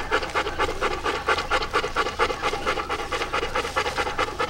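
A dog being washed pants rapidly and rhythmically close by, quick even breaths repeating throughout with faint scratching and no talk.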